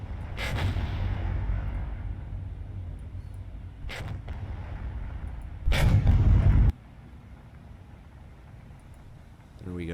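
Naval guns fire on a destroyer in the War on the Sea video game: several heavy booming blasts, the last a longer rumbling salvo, with quieter ambience between.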